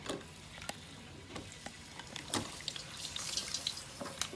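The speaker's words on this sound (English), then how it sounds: "So I'll pop them in the fryer here." Hot oil sizzles and crackles steadily as potato cakes deep-fry in a fryer, with scattered sharp pops and bubbling, growing a little busier as they cook.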